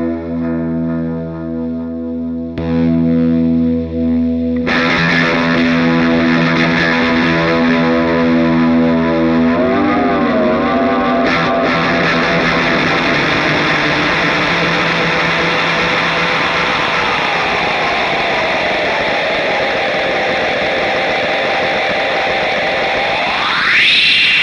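An Anasounds Utopia Delay pedal played noise-rock style gives dense, distorted, droning repeats that build into a thick wash of echoes, with warbling pitch wobbles and a sharp rising sweep at the very end.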